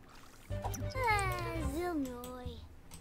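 A cat in The Sims 4 gives a drawn-out, rising-and-falling meow. It sounds close and clear over a low game hum, in a pet-play scene with a laser pointer.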